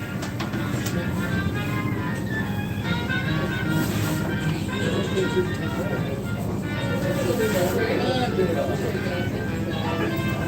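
A steady rumbling train runs continuously on the Strasburg Railroad, with steam locomotive 611 present, a constant low roar and rattling, while voices talk faintly underneath.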